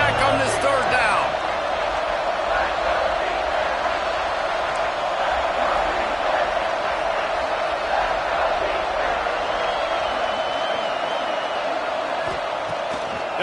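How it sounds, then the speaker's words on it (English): A college football stadium crowd at a Kansas State versus Texas Tech game on third down: a dense, loud, sustained roar of cheering and noise fills the whole stretch without letting up. "Guns up, and so is the noise. The crowd electric, trying to help Tech on this 3rd down."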